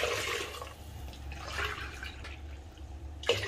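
Water poured cup by cup into a pot for amaranth-leaf vadiyalu batter, a close splashing stream in several short bursts with brief pauses between pours.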